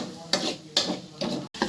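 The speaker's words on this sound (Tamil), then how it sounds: "இப்போ வந்து 2 தக்காளி வந்து நான் போட்டிருக்கேன், குட்டி குட்டியாக கட் பண்ணி. இதுவும் நல்லா வதக்கிக்கலாம்." Chopped tomatoes being sautéed with ginger and garlic in a pan for chicken gravy: a soft steady sizzle, broken by three or four close scraping stirs of a spoon, with no talk.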